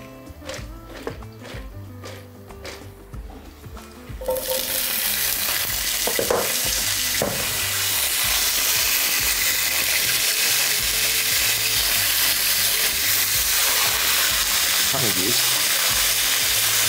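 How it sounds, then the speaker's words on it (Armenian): Okra frying in sunflower oil in a pan, starting with a few clinks and scrapes before a loud, steady sizzle takes over and continues close up with occasional stirring sounds. "Հենց այս տապակի մեջ էլ տապակենք սլոբոդա"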